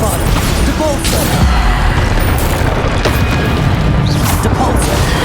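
Bombarda explosion spells in Hogwarts Legacy, a dense barrage of loud booms and crashing impacts layered over continuous game noise, with repeated blasts throughout.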